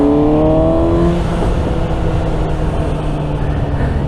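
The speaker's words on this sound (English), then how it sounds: "Yeah, I forgot how fast this bike is." A Suzuki GSX-S750 inline-four motorcycle engine pulls hard under acceleration while riding, a loud, close rising whine that settles into a steady roar with wind rush.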